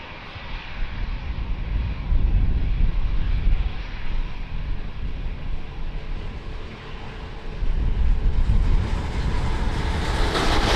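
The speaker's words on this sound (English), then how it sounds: "Nice private jet." A private jet at Lisbon Airport roars loudly and steadily with broadband engine noise, surging stronger partway through as it passes close by.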